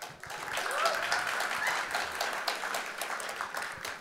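An audience at a Chicago mayoral forum breaks into applause that sounds soft and somewhat distant, continuous for a few seconds, with speech underneath.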